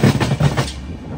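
SMVT Bengaluru–Guwahati Superfast Express running along the track, a loud close rumble with a few rhythmic wheel clacks.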